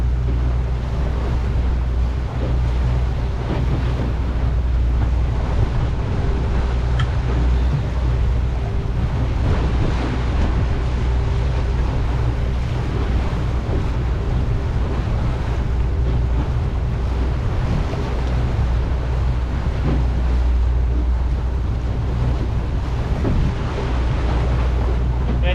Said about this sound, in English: I'm cruising at 5 knots at the moment.